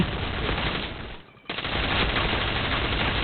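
Dense, continuous automatic gunfire from a Point Blank online shooter game, loud and sustained with a brief gap near the middle before the rapid shots resume.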